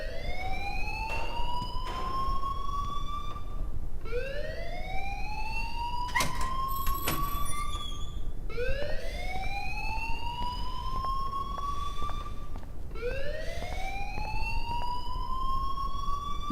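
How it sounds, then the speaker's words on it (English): A repeating rising electronic alarm tone in Life is Strange, sweeping upward in a steady cycle roughly every four to five seconds, loud and continuous with no talk over it. "please turn off that alarm since that's your job"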